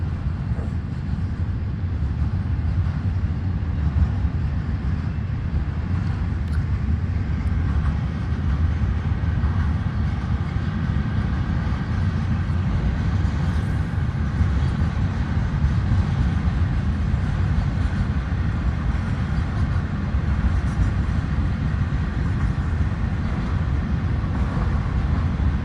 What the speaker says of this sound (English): FEC train over the marsh